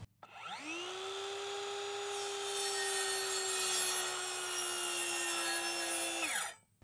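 A circular saw whines up to speed, holds a loud steady tone with rough rasping as it cuts through a board, then spins down.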